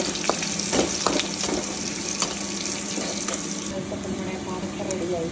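Onion sautéing in hot oil, a dense close sizzle with scattered clicks and scrapes from stirring that continue steadily throughout, with faint background voices.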